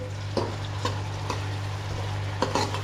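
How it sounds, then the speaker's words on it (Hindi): Ginger and garlic frying in oil in a kadai make a soft background sizzle, punctuated by several sharp spatula taps and scrapes against the pan, with a low steady hum underneath. "प्याज़ों के पकने के बाद मैंने इसके अंदर अदरक लहसुन डाला है, इसको भी थोड़ी देर पका लेंगे"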